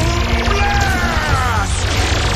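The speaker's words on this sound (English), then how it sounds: "Incoming cannon blast." A cannon blast explosion effect in a Power Rangers Dino Fury battle sounds loud and dense, with a rumbling, crashing burst that fills the whole clip over layered music and effects.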